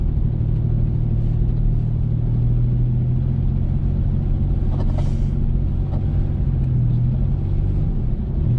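Car driving up a snowy mountain road in North Carolina with the rear end sliding: constant loud engine drone and road rumble, steady throttle hum with a few faint clicks and creaks riding on top.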